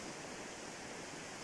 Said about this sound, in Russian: А речка балдежная, вода холодная, все как надо.